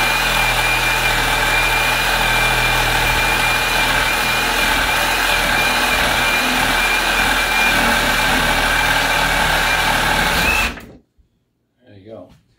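A reciprocating saw cuts through a beef shoulder bone near the knuckle with a loud, steady close buzz for about eleven seconds, then stops abruptly, leaving near silence.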